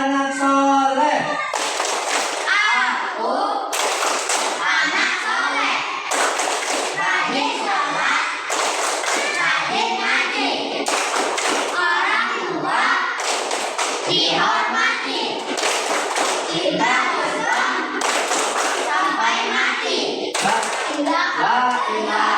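Children in an Indonesian classroom clap in a rhythmic chant, with bursts of clapping recurring at regular intervals between sung and spoken young voices.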